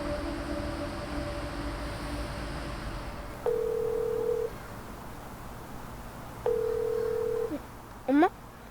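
A telephone handset gives a steady dial tone over a faint background hum, then two separate long flat tones a few seconds apart, followed by a short rising burst of dialing beeps near the end.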